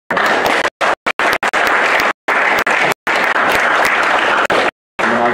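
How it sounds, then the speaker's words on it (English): An audience at an annual celebration applauds a panel, broad steady clapping that swells and holds at full strength, broken by a few short silent gaps. "Just a round of applause."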